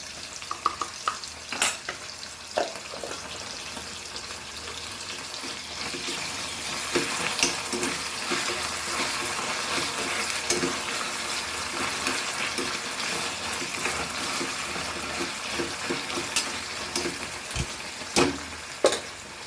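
Ginger garlic paste sizzles steadily in a hot pan for a Goan sardine curry, with scraping stir strokes and a few sharp clicks of the spoon over continuous frying hiss; no one speaks.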